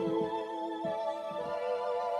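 An electric organ played live with heavy vibrato, sustained harmonic chords wobbling steadily in pitch, clear and close with no voices.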